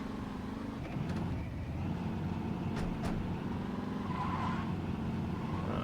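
Car engine droning steadily while driving in Saints Row 2, a continuous low rumble with a few brief higher whooshes, loud and alone throughout.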